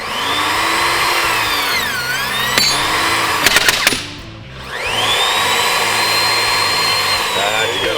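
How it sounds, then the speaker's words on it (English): A Metabo rebar bender cutter whines as a motor under load, its pitch sagging and recovering, with a brief cluster of sharp clanks as the rebar is cut, a dip in level, then a steady run resuming. "We just take this machine, we turn it over, we pull this guard the other direction, make sure we set our dialer to cut."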